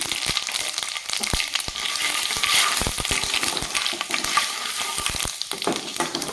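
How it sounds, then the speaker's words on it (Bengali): Panch phoron spices and three dried red chilies sizzle and crackle in hot oil in a pan, a steady close frying hiss dotted with sharp pops and stirring scrapes, with no talk. "পাঁচ ফোড়নটা ভাজা হয়ে গেছে"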